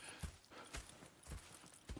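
Horse hooves clip-clopping in Red Dead Redemption 2, a quiet, even walking rhythm of hoofbeats with soft thuds spaced about half a second apart, alone and faint.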